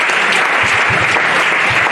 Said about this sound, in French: Donc mission charismatique des vainqueurs, on peut acclamer pour cette église.